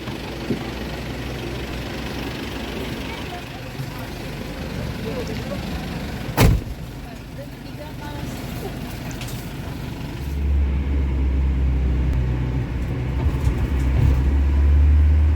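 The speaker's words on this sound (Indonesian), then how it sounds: "Nah, shuttle-nya nih." A shuttle minibus engine idles and runs on the road to the GIIAS 2024 auto show at ICE BSD. The drone is low and steady, with one sharp thump midway and the rumble growing heavier toward the end.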